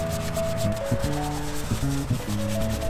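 A stiff, dense-bristled Detail Factory detailing brush scrubs into a tight crevice, making a close, continuous scratchy rubbing with back-and-forth strokes over a droning background tone.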